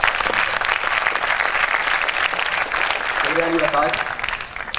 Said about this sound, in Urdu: اس ایوان میں جتنی بھی تالیاں بجیں، ہر تالی ایک جذبہ ہے